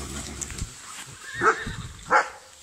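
A dog gives two sharp barks, close by in woods near wild horses, with a few softer yips and rustling between them.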